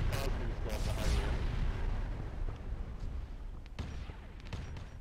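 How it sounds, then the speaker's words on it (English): Mortar rounds firing and booming in a video game battle: a rumbling, echoing blast early on followed by fainter distant thumps, with voices talking over the noise. "the mortar is firing again."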